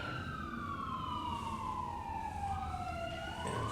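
A fire department emergency vehicle siren wails nearby, holding a long falling tone that dips and then climbs again over steady road rumble.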